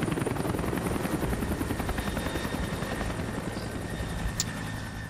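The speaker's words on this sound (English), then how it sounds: "we will hotwire your helicopter, I guess, and we will just be leaving" Helicopter rotor from Hitman: Blood Money thumps in a steady, fast chopping rhythm, loud and continuous throughout, with no talk over it.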